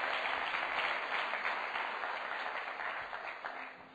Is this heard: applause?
yes